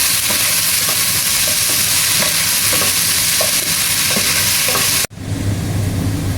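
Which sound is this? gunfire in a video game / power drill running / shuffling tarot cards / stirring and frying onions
stirring and frying onions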